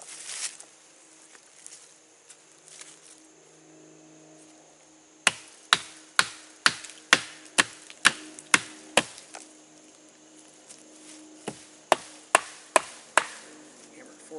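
Sharp woody strikes in quick, even bursts, a metal blade being hammered through wood, with a pause between series, close and loud.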